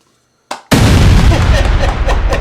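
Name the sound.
explosion effect during marching band field show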